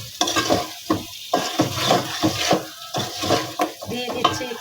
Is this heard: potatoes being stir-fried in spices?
yes